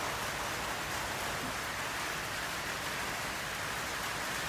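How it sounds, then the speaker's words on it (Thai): Heavy rain pours steadily on a dark, overcast day at Lightning Ridge, a dense, constant hiss close by and unbroken, with no voices. "ฝนตกมากนะคะ"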